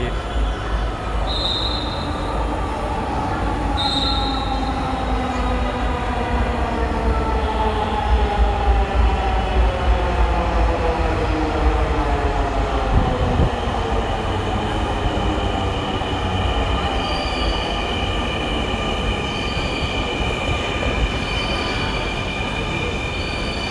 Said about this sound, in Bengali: ট্রেন চলে